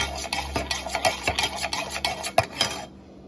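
A teaspoon stirs maple sugar into coffee, clinking against the cup in a quick, steady run of close ticks and scrapes for about three seconds before stopping.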